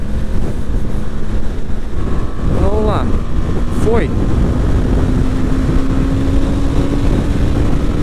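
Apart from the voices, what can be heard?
strong wind while riding a BMW G310GS motorcycle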